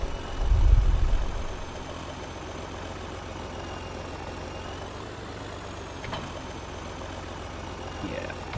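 Tractor engine idling in Farming Simulator 22, a steady low rumble with a heavier throb near the start, then an even drone.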